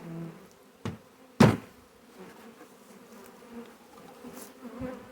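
A honey bee swarm hangs on a trap outdoors, giving a faint steady hum with a few sharp knocks and bumps over it.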